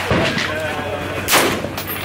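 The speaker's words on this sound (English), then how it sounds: "Shoot again." A single loud, close gunshot at a shooting range fired at targets, a sharp crack with a rolling decay, followed by a brief second burst of noise.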